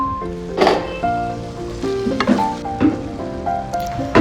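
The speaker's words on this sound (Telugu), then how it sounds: "1 టీ స్పూన్ పసుపు, రుచికి సరిపడా ఉప్పు వేసి బాగా ఫ్రై చేసుకోవాలి." Fish curry base fries in a kadai with turmeric and salt, giving a close, lively sizzle with bursts of stirring scrapes every second or so, loud and continuous without talk.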